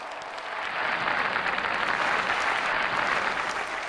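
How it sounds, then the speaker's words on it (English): A studio audience applauds a special guest arriving on a talk show, with steady, dense clapping that swells quickly and holds at full strength for several seconds, no talking over it. "give a round of applause for our special guest, Bajoy."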